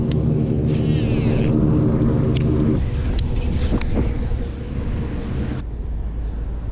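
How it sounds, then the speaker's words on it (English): Road traffic rumbling steadily near a pond while grass is cut nearby, a continuous loud low engine drone with a few sharp clanks and knocks. "then you got the cars and you got them cutting grass, so I'm quite sure it's gonna be like pretty noisy"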